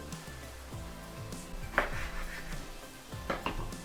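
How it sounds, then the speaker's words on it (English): A knife cuts a lime and a lemon in half on a board in a home kitchen, with a few soft thuds and clicks over quiet background clatter. "Take our lime and our lemon and cut these in half"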